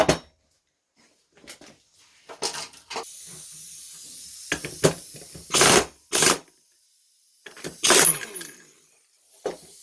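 A pneumatic impact wrench with a 35 mm socket loosens the nut on a scooter's MVT ignition rotor in a few short, loud rattling bursts, separated by quieter workshop clatter.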